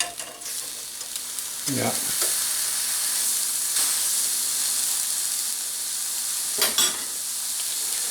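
Steady sizzling of a wild hog sausage patty frying in a pan, with a couple of brief scraping stirs and a short spoken word near the end.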